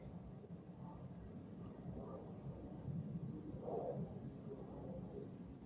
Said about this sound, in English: I can hear an airplane in the sky.